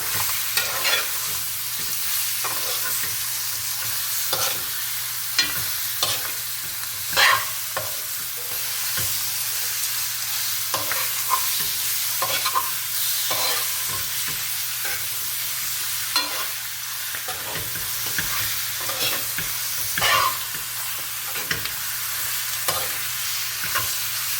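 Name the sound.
curry chicken frying and being stirred in pot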